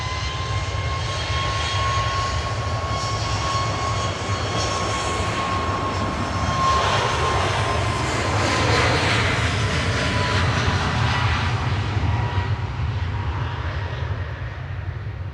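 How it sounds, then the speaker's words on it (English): A Ryanair jet departs runway 23 left at Manchester Airport bound for Nantes, its engines building into a loud roar that swells toward the middle and then eases, with a low rumble underneath and no voices. "Departing on 23 left now is Ryanair to Nantes, flight 3543"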